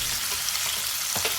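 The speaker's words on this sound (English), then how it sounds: "Saute them until the vegetables soak up the oil and soften slightly" Carrots and onions sautéing in hot oil in a pan for stir-fry, a loud steady sizzle with a brief stirring scrape near the end.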